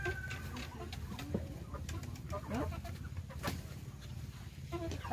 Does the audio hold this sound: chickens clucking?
yes